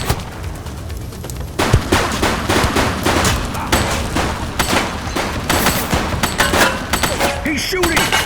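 Rapid bursts of police and gang gunfire in The Precinct video game during a raid to catch a gang boss. The shots come loud and dense, volley after volley, across the whole stretch.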